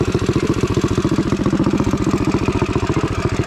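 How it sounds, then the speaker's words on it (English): A small single-cylinder engine runs smoothly after a spark plug fix, with close, loud, rapid, even firing pulses throughout. "So you can tell, engine's running awesome now."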